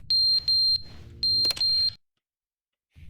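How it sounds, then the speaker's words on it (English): A fire alarm in The Stanley Parable video game sounds two pairs of loud, piercing electronic beeps in a steady rhythm, then cuts off into silence before a faint sound returns at the end. "The fire alarm."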